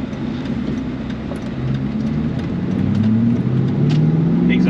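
A 1996 Mustang Cobra's high-revving engine revs up through rising pitches on a closed course, a strong close growl that climbs and falls between gear changes, with no talking.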